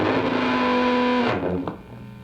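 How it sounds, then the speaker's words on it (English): A distorted, sustained electronic tone of a theremin bleeding into a guitar track hums loudly with steady pitched lines, then cuts off abruptly, leaving a faint resonant tail. "There's some bleed of the theremin from the other track."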